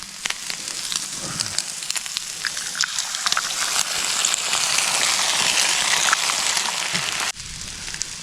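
Butter sizzles and crackles loudly in a hot frying pan at a winter campsite, a dense, steady hiss with occasional pops, close by and with no talking.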